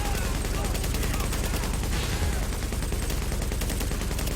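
A light machine gun in Tom Clancy's The Division fires in a dense, continuous stream of rapid shots, loud and unbroken throughout.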